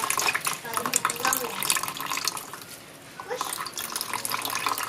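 Mashed bintaro fruit is squeezed through an insect net, sending liquid splashing and dripping in a steady wet trickle with soft squelching bursts, at close range and moderate volume.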